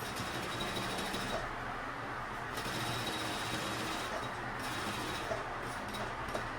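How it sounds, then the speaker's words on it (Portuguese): A sewing machine runs a safety seam along a bag pocket with a continuous, fairly quiet mechanical whir, easing briefly a couple of times before carrying on. "E venho passando uma costura de segurança aqui para prender o nosso bolso."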